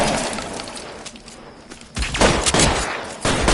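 Gunfire in the L.A. Noire video game: a rapid burst of shots, then a quieter lull, then more loud cracking volleys with a sharp shattering edge, no talk.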